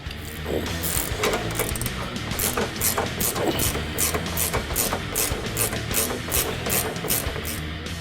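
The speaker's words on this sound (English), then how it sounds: "we're going to start by removing the brackets on the control arm side" Ratchet turning bracket bolts on the control arm of a 2015-2020 Mustang during a sway bar install, steady rapid clicking strokes repeating in quick bursts, close and loud with no talk.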